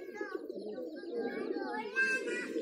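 Spotted black-eyed highflyer pigeons coo in soft, continuous, overlapping calls close by, with chirps and other bird sounds mixed in and a faint voice under them.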